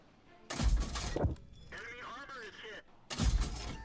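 Two heavy cannon blasts from a tank in the World of Tanks game ring out about two and a half seconds apart, each a sharp, loud crack with a crunching tail, with quieter game noise and a brief voice in between.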